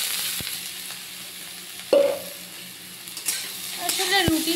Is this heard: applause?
no